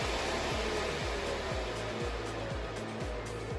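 Valentino Gen.4 nail dust collector running at its highest setting, a loud, steady fan whoosh close by with a rhythmic low thumping, heard alone without talk.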